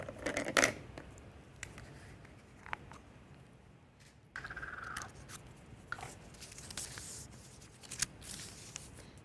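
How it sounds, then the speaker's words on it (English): A team lot is drawn from the pot at the CAF Girls U-17 football tournament draw, giving quiet rustling, shuffling and clicking of paper and plastic balls in a sparse series of faint, close handling noises with no talk. "I will ask my assistant Teresa, please go ahead and do the first draw."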